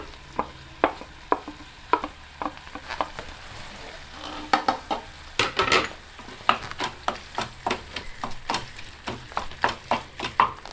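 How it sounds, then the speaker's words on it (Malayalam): A spoon stirs fried brinjal into soft cooked tomatoes in a pan, with repeated scraping knocks against the pan over a low sizzle, the strokes steady and close with a brief busier patch midway. "തക്കാളിപ്പഴം നന്നായിട്ട് വെന്തുടഞ്ഞിട്ടുണ്ട്. അതിലേക്ക് നമ്മൾ വരട്ടി വെച്ചിരിക്കുന്ന ബ്രിഞ്ചാൾ ചേർക്കാം."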